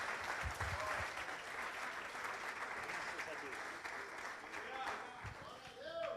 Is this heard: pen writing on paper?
no